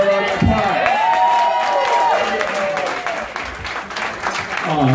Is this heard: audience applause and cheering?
yes